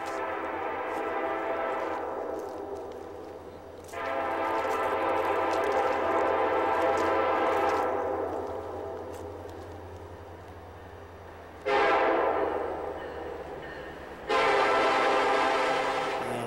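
A train rumbles past close by while its horn blasts several times, long sustained blares separated by short gaps, with the steady roar of rail cars underneath.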